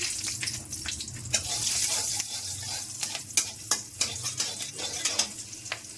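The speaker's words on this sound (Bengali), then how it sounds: "তেলের মধ্যে এবার দিয়ে দিচ্ছি কালো জিরে আর 4টে কাঁচা লঙ্কা ফোড়ন।" Black cumin seeds and four green chillies hit hot oil, making a lively, continuous sizzle riddled with sharp crackles and pops that grow more frequent toward the end, close and fairly quiet.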